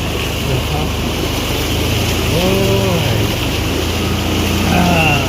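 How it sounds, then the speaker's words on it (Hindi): A motorbike rides through floodwater during monsoon flooding in Ambala, India, with a steady loud engine and water rush filling the clip and voices heard faintly over it. "चल रही है हमारी बाइक पानी के अंदर ये गई"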